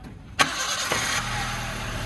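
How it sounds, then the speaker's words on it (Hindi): A Maruti Ritz car engine cranks and catches with a sharp burst, then settles into a steady idle hum, heard up close with no talking. "अब एक बार गाड़ी को स्टार्ट करके देखें क्या कंडीशन है।"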